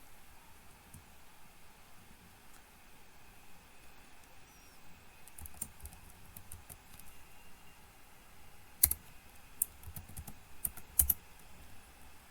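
Quiet keystrokes of a Linux command being typed on a computer keyboard, sparse taps at first, then a quicker burst of clicks with a couple of sharper key presses, near and faint over a low room hiss.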